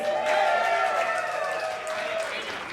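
Crowd at a live wrestling event in Everett applauding and cheering in a dense, sustained wash of clapping and voices, loud and close, tapering slightly toward the end.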